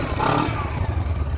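A Honda CBR250RR sport motorcycle, previously used on a track, runs at a steady idle. The engine gives a close, continuous rumble with a light mechanical clatter over its short length.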